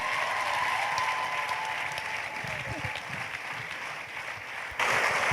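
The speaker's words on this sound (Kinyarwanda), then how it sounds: "Mukoma amashyi tumwakire, tumunezererwe cyane." A church congregation claps to welcome the pastor, a dense, sustained wash of applause filling the room, with voices faintly mixed in and a brief surge near the end.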